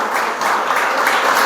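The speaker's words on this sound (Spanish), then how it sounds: "Usted le puede dar un aplauso al Señor por la bondad" Church congregation applauding together, a dense, loud and continuous wash of clapping with no break.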